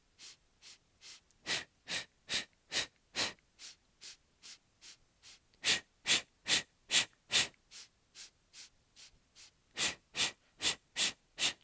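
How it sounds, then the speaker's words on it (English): Short, sharp breathing during a classical mat Pilates class: rapid nasal inhales and forceful mouth exhales, about two dozen crisp puffs in steady rhythm with a brief pause partway, close and clear without talk. "we're going to take 5 short, sharp inhales in through our nose and 5 short, sharp exhales out our mouth"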